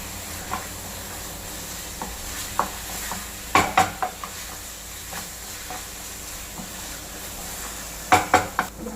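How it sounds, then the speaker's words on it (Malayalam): Biryani masala mixed with curd being sautéed in a pan over a high flame, with a steady sizzle and hiss broken by repeated metallic spoon scrapes and stirring clatters, close and clear, without talk. "നമ്മൾ ഹൈ ഫ്ലെയിമിൽ വെച്ചിട്ട് നല്ലപോലെ സോട്ട് ചെയ്യണം."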